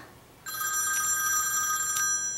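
An electronic phone ringtone goes off indoors during a home crafting session, starting abruptly and sustaining a loud, bright, steady tone that pulses with a repeating pattern close by, with no talking.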